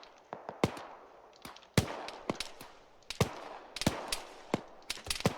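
Rocket artillery firing in the Arma 3 video game: a rapid, irregular series of sharp, loud blasts and cracks, each with a short rumbling tail, spread across several seconds with no voices.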